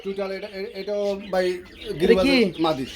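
Pigeons of fancy breeds calling from a dealer's cage, with several close cooing and warbling calls in a busy sequence, some overlapping, loud and near.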